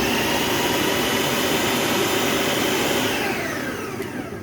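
A food processor purees vegetables for allotment-harvest chutney, a loud steady whirring motor drone that runs for a few seconds and then starts winding down near the end.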